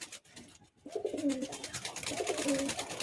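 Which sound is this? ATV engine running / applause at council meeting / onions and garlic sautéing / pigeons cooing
pigeons cooing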